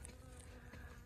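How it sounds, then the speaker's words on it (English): Bees buzz faintly among tomato plants in a home garden bed, a soft continuous hum with brief louder passes close by. "There's some bees doing some work."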